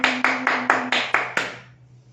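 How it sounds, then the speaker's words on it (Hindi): Kindergarten children clap their hands together six times in an even rhythm during a Hindi class, each clap sharp and close, with a low steady tone underneath and a fading tail after the last one. "बच्चों बजाओ ताली, मिलके बजाओ ताली"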